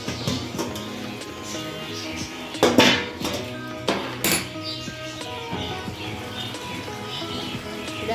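A metal lid lifted off a pot of chicken simmering on a gas stove, giving a couple of brief clanks and clinks over a steady background hum, with faint voices in the room.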